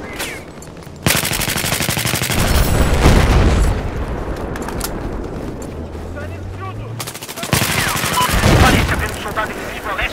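Bursts of rapid automatic gunfire and heavy sniper shots crackle through a busy, loud Battlefield 4 soundscape on the Operation Firestorm map in Conquest mode, with a low rumbling boom partway through.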